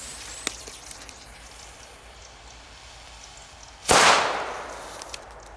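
A retro old-school firecracker goes off with a single weak pop partway through, followed by a brief hissing decay, with a few faint clicks before it and no talking.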